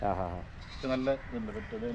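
Goats on a farm, including Barbari goats, bleat several times nearby in wavering, drawn-out calls, with short pauses between them.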